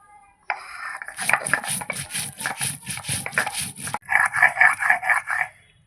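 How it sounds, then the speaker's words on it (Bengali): Whole cumin seeds ground by hand on a flat grinding stone, a rhythmic back-and-forth scraping and rubbing of stone on stone, steady strokes repeating close and loud with a brief pause before a faster run. "প্রথমে আমি গোটা জিরে বেটে নেবো"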